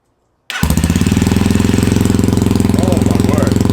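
A Kayo 230 T4 dirt bike engine catches after a short silence and settles into a loud, steady, rapid-firing idle with a regular thumping pulse, close up, with no talk over it.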